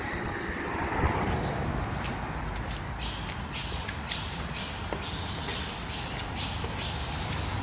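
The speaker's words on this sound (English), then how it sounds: "Looks like we got some birds that call this place home." Birds squawking near a trail tunnel, harsh calls repeating over a rough, rushing background wash, moderately loud throughout.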